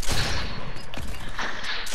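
Gunfire in Fortnite crackles in a short burst of several sharp shots, close and loud, with rapid overlapping bangs over a busy game background and no clear speech.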